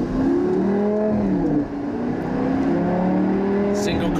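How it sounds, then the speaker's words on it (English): Lamborghini LP560-4 Spyder with an e-gear single-clutch manual gearbox accelerating on a country lane, a steady engine note rising in pitch through gear changes, heard from inside the car. "So the first acceleration, I'm getting used to the e-gear transmission, which is manual."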